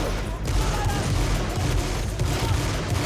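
Gunfire in a film shootout as Triad members storm a club, a sustained loud wash of overlapping shots and blasts with heavy low rumble throughout.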